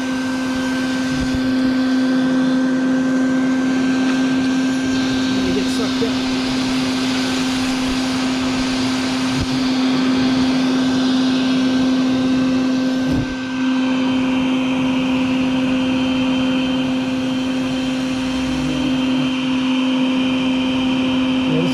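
A vacuum sucking baldfaced hornets out of a nest drones loudly and steadily for the whole stretch, a constant whine and rush of air with a brief dip near the middle and no talk.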